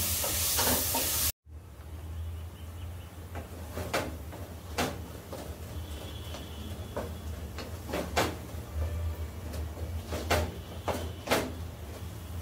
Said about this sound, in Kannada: ಆಮೇಲೆ ಸ್ವಲ್ಪ ಧನಿಯಾ ಪುಡಿ, ಇದನ್ನೆಲ್ಲ ಹಾಕಿ ಚೆನ್ನಾಗಿ ಮಿಕ್ಸ್ ಮಾಡೋಣ.